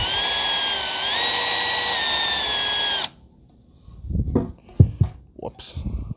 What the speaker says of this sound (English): now we need to drill the holes for